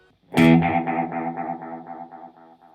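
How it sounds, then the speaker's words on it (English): One guitar note through a delay pedal, hit hard and then echoed in a long train of evenly spaced repeats that fade away steadily, each with a slightly warbling, wobbly pitch. "the delay pedal will add a type of modulation. It'll sound kind of wonky"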